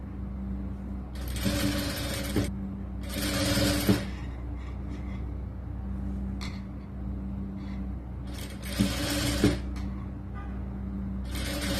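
A sewing machine stitches a sleeve cloth onto a lined churidar top in bursts of steady whirring, four runs of a second or so each separated by short pauses, close and clear over a low background hum.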